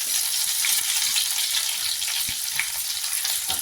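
Onions sizzle in hot oil after mustard seeds, urad dal and garlic for a South Indian potato fry, giving a steady, close crackling hiss throughout with no voices.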